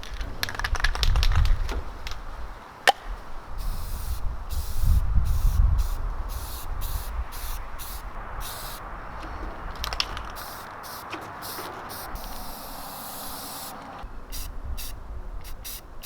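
Spray primer applied to exposed metal on a rusty trailer around the rivets: close hissing spray bursts that start and stop, with occasional can rattles and light clicks in the pauses.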